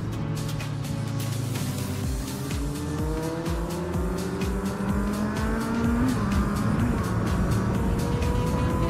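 A Yamaha R6 sport motorcycle, an older model of around 2000, screams along a mountain road near Monte Bondone, its high-pitched engine loud and continuous with rising and falling gear-shift tones against wind and another bike's drone.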